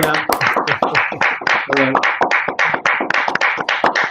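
A group of people claps steadily at close range, sharp overlapping hand slaps in a brisk, uneven rhythm with a few voices briefly audible among them.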